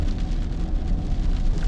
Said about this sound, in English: So now that it's been raining for a little bit